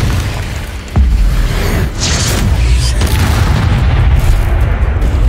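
Confringo spell blasts going off in Hogwarts Legacy, a loud booming explosion with a deep rumbling tail that keeps roaring steadily, with no voices.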